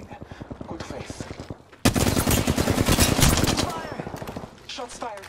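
Rapid automatic gunfire from the Apex Legends video game comes in quick bursts. A lighter rattle opens, then a loud, dense fusillade hammers on for a couple of seconds before tapering into scattered shots.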